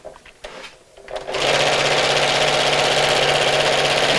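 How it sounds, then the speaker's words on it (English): A sewing machine stitching around a Christmas fabric bag starts after a second of soft handling noises, then runs in a fast, even, close rhythmic whir to the end. "And then we'll sew around the rest of the bag."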